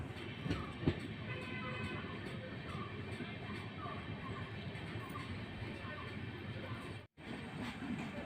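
An express train on the Mysuru-Shirdi route runs into Yeshwantpur railway station, a steady, fairly quiet rumble of carriages heard from inside, with a brief dropout near the end.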